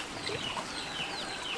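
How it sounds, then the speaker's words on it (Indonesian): A chicken clucks faintly in a rice field, giving a few soft, scattered calls over quiet outdoor background noise during a brief moment. "Tuh ada ayam tuh."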